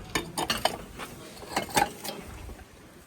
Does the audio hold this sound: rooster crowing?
no